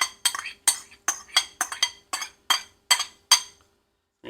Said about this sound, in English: we're going to pop in our ham and turkey that we diced up from the store